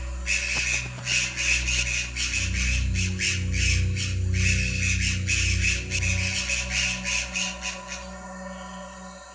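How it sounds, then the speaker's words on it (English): A group of white-throated magpie jays in a dry tropical forest give harsh, repeated squawking alarm calls in quick bursts, loud and close, fading to quieter calls at the end. "white-throated magpie jays group together and emit harsh cries that warn the other forest animals"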